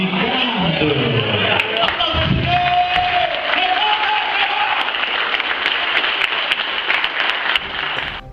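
Audience clapping at a stand-up comedy show, a sustained wash of applause from a crowd running throughout, with a voice speaking loudly over it.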